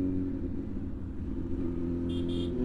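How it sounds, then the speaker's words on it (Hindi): A Kawasaki Z900 motorcycle, a 220 kg bike, on the road during a ride, with a low, steady engine drone and tonal hum at moderate level and a brief high beep near the end. "ये रिएक्शन बता रहे भाई कि साउंड कैसी आ रही है बाइक की"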